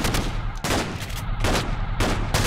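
Bursts of Minecraft weapon gunfire crack out in a rapid, regular series of loud, sharp shots, roughly four to five evenly spaced blasts, with no talking over them.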